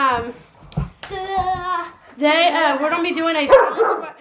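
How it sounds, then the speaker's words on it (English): Pet dogs bark and whine close by in a home, short sharp yaps between longer whining cries, mixed with a person talking and a few claps. "Sorry about my dogs."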